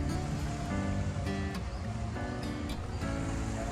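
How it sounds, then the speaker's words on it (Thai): Large waves roll in and crash onto the beach of Koh Kradan, a small bay in the Andaman Sea off Trang, as a steady, loud wash of surf with no talk. "มีคลื่นลูกโตๆนะฮะสาดเข้าหาชายหาด"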